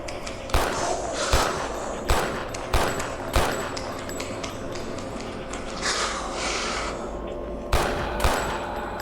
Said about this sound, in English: I wasted one bullet, but it took the entire clip to take out one enemy